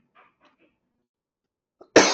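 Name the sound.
man coughing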